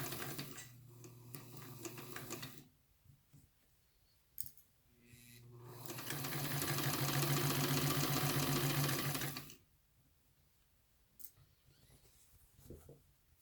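A sewing machine stitches a sleeve seam, running in a couple of short bursts and then in one longer sustained whir, close and fairly quiet, with pauses and small clicks between.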